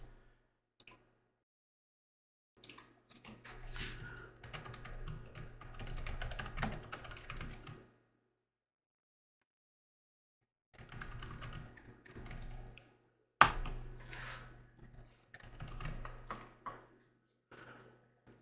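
Bursts of typing on a computer keyboard while C++ code is written in Unreal Engine 5, with rapid close key clatter in two runs separated by a few seconds of silence.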